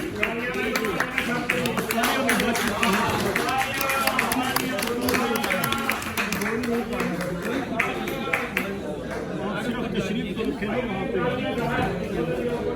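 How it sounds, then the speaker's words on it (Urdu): An audience applauds at a book launch ceremony as guests of honour are invited to the stage, with dense, sustained clapping throughout, mixed with crowd chatter and a voice speaking. "تالیاں بج گئی ہیں"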